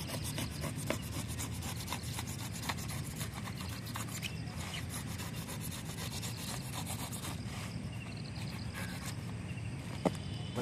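Material is cut by hand to make a float for a river net, a faint steady rasping, rubbing scrape repeated in close strokes, with no talking.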